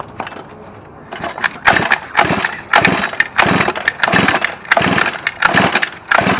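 A 49cc pocketbike engine being turned over for its first run in ten years, a close, loud, sputtering two-stroke chug in uneven bursts after a quieter start.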